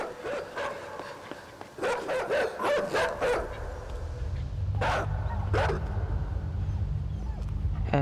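A dog in the side-scrolling video game Inside barks in a rapid string of sharp, fairly close yelps, followed by two more isolated barks over a low rumbling backdrop.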